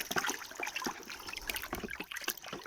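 Water sloshes and trickles as something is dipped and soaked in a copper sulfate and salt solution outdoors in a field, a faint, continuous, close splashing with no voices.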